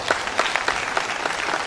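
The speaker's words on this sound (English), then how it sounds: "Please let us give him a round of applause." An audience at a university valedictory lecture applauds, a steady patter of scattered hand claps at moderate volume, fairly thin and close.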